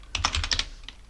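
Terminal commands typed on a computer keyboard during an Arch Linux install in a virtual machine, a quick burst of about six close, crisp key clicks, then a lone tap after a short pause, with no talk.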